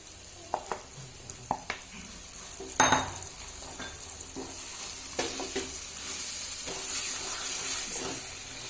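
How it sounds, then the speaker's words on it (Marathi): Mashed eggplant is stirred into a sizzling pan for Khandeshi-style bharit, with a soft steady fry under scattered spoon scrapes and clinks, one sharper clatter midway. "आता आपण हे मॅश केलेलं वांगी टाकून घेऊ त्याच्यात।"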